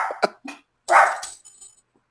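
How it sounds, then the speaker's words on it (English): Several dogs bark indoors in a home, a few short sharp barks close by followed by a longer louder burst, then quiet. "It's my dogs."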